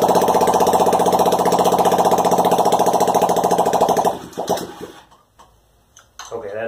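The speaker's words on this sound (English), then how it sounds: "Now there's no exhaust on there, so I'm not gonna run it very long." A small engine with no exhaust fitted and no throttle cable, worked by hand, runs with a loud, rapid, steady chatter for about four seconds, then revs drop and sputter unevenly before picking up again.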